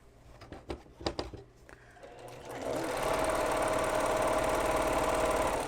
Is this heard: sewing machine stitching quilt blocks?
yes